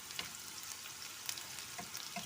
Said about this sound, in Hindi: प्याज को हम थोड़ा सा हिलाएंगे, इसे बिल्कुल लाइट हम करेंगे